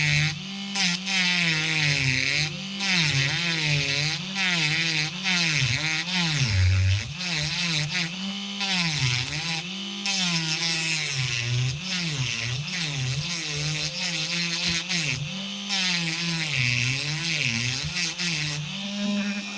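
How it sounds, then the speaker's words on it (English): A Dremel rotary tool cutting a plastic model kit part, a steady close whine that keeps rising and falling in pitch as the load changes, running almost continuously with no talking. "just using a Dremel here"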